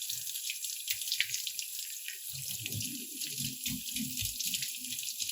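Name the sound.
running tap water rinsing India ink off paper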